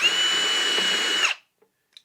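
A power drill drives a screw into a wooden wall cabinet with a steady high whine for just over a second, then stops abruptly, followed by a couple of faint clicks.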